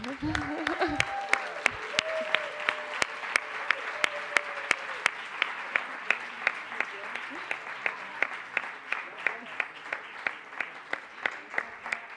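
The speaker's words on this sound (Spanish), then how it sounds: "un fuerte aplauso para el Lab de África" An audience at an international symposium applauds for a long stretch, with steady applause continuing throughout and sharp individual claps standing out near the front, while a presenter talks over the start.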